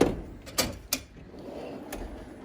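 A Snap-on toolbox drawer gives a couple of short, close metallic clacks in quick succession as it slides open or shut, then the garage falls mostly quiet apart from one lighter click.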